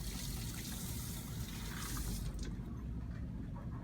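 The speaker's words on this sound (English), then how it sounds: "Rinse this part off." Water runs over a removed part of electroplating equipment as it is rinsed at a sink, a steady close splashing flow that thins out toward the end.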